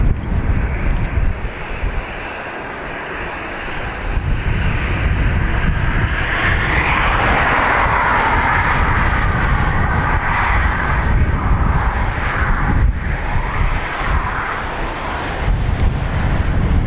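A JetBlue airliner at Dublin Airport gives a loud, sustained jet engine roar that swells and holds for many seconds, mixed with wind buffeting the microphone, with no voices.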